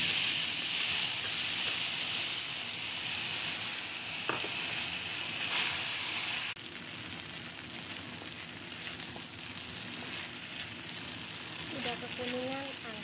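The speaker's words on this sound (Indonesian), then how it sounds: "Kita goreng tahunya dulu." Tofu frying in a pan gives a steady sizzle throughout, with occasional stirring and utensil clicks and a voice talking over it briefly near the end.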